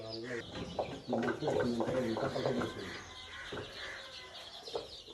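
Chicks of a country chicken breed chirp and cluck as they come out on a poultry farm, in high, busy peeps that are loudest early and then thin out, with a voice talking in the background.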